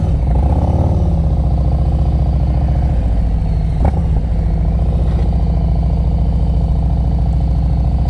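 A motorcycle pulls away from a stop in first gear during an advanced slow-speed riding practice session in Pennsylvania, its engine a loud, steady, close rumble throughout with a brief clunk midway.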